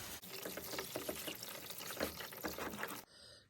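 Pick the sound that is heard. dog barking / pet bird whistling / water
water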